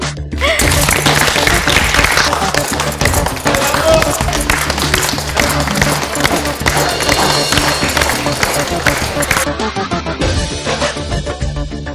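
A wedding crowd at a newlywed couple's celebration bursts into dense, sustained applause, the loud clapping blending with crowd noise and a steady musical backdrop throughout.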